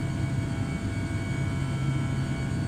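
Airbus A319 jet engines climbing in Microsoft Flight Simulator, a steady, loud low-pitched roar with constant whine that holds evenly throughout without pause.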